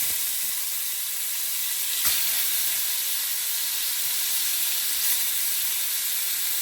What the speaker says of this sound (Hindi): अब इसके अंदर हम अपनी जो मैरिनेट की हुई चिकन है वो हम इसमें ऐड करेंगे।